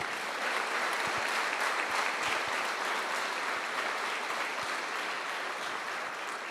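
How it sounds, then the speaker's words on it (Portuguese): A church congregation applauds at a worship service, steady dense clapping filling the room at an even level for several seconds with no voices over it. "Aplauda o Senhor Jesus"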